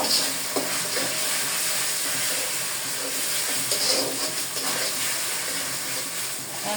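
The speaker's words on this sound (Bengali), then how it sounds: "এখন ভালো করে আদা রসুনের পেস্টটাকে ভেজে নিব" Ginger garlic paste fries in a pan with a steady broad hiss and soft sputtering, a few faint stirring clinks scattered through, fairly close and even in level without speech.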